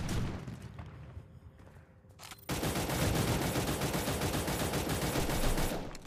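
Rapid automatic gunfire from the shooter game Cyber Hunter, first a quieter burst that fades, then a loud dense continuous volley of fast shots sustained to the end.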